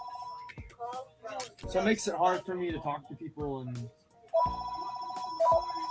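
A telephone rings loudly right beside the microphone, its electronic bell sounding in repeated bursts at the start and again near the end while someone keeps talking between the rings.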